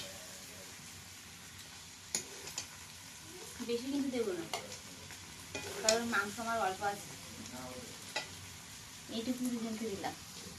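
Duck meat frying in oil in a home kitchen while being stirred, a soft sizzle under intermittent scraping and clinks, with occasional talk nearby.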